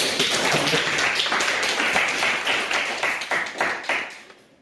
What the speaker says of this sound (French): Oui, on peut applaudir, oui.